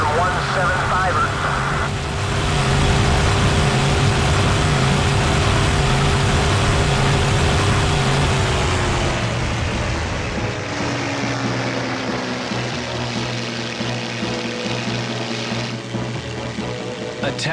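Engines drone steadily and loudly on a World War II Pacific air-combat video game, with propeller aircraft as bombers approach, shifting in pitch as they come in, while a voice speaks over them.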